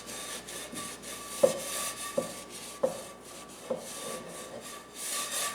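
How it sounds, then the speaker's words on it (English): A scrubber rubs gently over a cast iron skillet to lift stuck-on egg, making soft rhythmic scraping strokes with a few sharper knocks. "take your scrubby and you're just going to gently exfoliate all this egg off of there"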